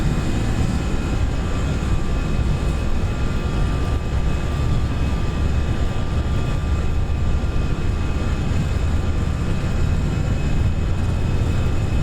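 A320 jet engines hold takeoff thrust in the Prepar3D flight simulator, giving a loud, steady, unbroken roar with a faint high whine on top and no talk.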